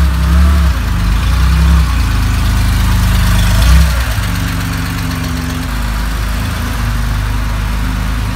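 A green 1971 Porsche 911 E idles steadily close by, its engine note holding a low, even rumble for several seconds with a slight dip midway and no voices.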